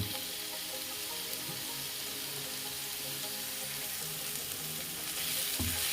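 Onions fry under a lid in a pan, giving a steady muffled sizzle that continues throughout, with a brief clunk near the end.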